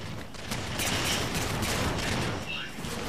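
A Promethean charged energy gun from Halo 4, fired before full charge, lets out a dense crackling burst with a whooshing sweep, loud and continuous over about three seconds, with game effects layered around it.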